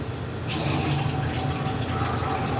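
Water runs steadily as it is drained off sliced meat for homemade tapa before rice wine goes in, a continuous close pouring trickle in a home kitchen with no talk.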